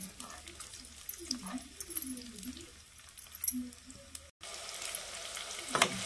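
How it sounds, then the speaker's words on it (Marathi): Finely chopped onion hits hot oil in a pan for a Malvani chicken curry, giving a crackling sizzle while someone talks over it and a dog whimpers faintly in the background. "तर बघा तेल गरम झालंय. आता यामध्ये घालूया बारीक चिरलेला कांदा."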